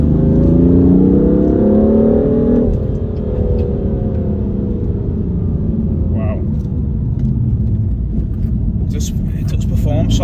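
Stage 1 BMW M3 making about 490 bhp, heard from inside as the engine note climbs through the revs under kick-down, then settles into a steady loud rumble and whir while a voice talks over it.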